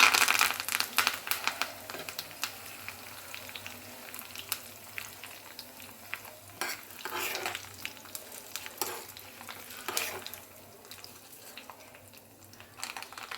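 Mustard seeds, urad dal and curry leaves fry in hot oil, crackling and sizzling in quick irregular bursts, close and fairly quiet, with occasional stirring.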